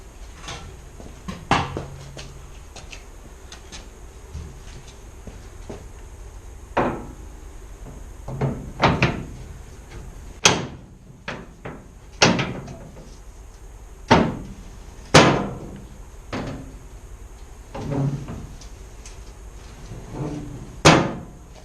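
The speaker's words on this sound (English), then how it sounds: "let's see how the tailgate fits" Tailgate being fitted onto the tub of a 1979 Jeep CJ5 under restoration, with a series of sharp metallic knocks, bumps and clunks at irregular intervals, close by, separated by quiet pauses.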